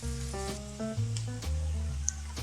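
Spring onion sautés in a pan, with a soft continuous sizzle heard under strong tonal background hum over a couple of seconds.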